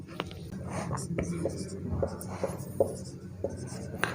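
A physics definition on force and the laws of motion is written out on a board in short scratching strokes and taps, close, with a voice speaking softly over the writing.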